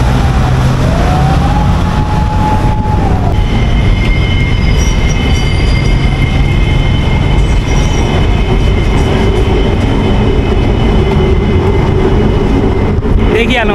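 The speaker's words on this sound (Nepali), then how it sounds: "देखिहाल्नु होला साथीहरू, माथिबाट रेल कुद्ने" An elevated train in Malaysia passes overhead, a loud continuous rumble with squealing wheels and rail clatter, while road traffic sounds underneath.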